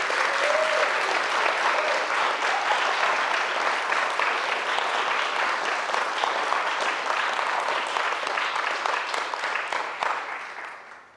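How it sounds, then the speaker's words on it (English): A concert audience applauds musicians, with sustained dense clapping from a large crowd holding steady for several seconds before tapering off at the end. "Let's give our musicians a huge round of applause for all the work that they have done."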